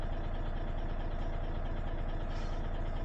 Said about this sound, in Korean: 그리고 시동 좀 걸어 놨다가